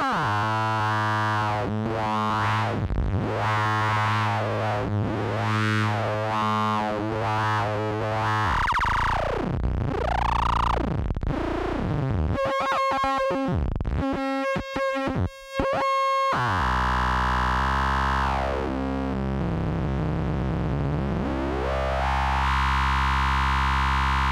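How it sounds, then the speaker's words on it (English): Modular synthesizer patch built around a Maths function generator, producing dense, harsh evolving tones with sweeping pitch glides, buzzing distortion and a stuttering burst in the middle, played continuously without talk. "With this patch, I can generate a lot of complex sounds."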